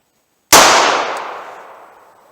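A single revolver shot firing a .38 Special 170-grain Keith lead semi-wadcutter at 10 yards outdoors: one sharp, loud crack followed by a long decaying ring, with no talking.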